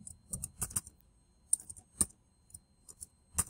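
Someone types on a computer keyboard with a Chinese layout, producing sharp, close key clicks in short irregular bursts separated by quiet pauses.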